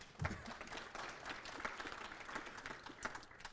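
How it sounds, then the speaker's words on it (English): An audience at a chamber event applauds the filming crew, a fairly small, quiet burst of scattered claps with a few sharper individual hits, heard alone without talk. "How about a round of applause for the crew?"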